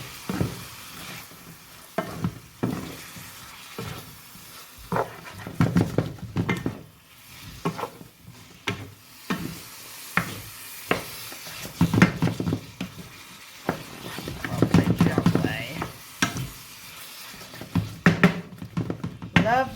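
Chilli chicken and vegetable fried rice sizzling in a pan while being stirred, with repeated scraping and clanking of a utensil against the metal under a continuous fry hiss, and a person talking intermittently.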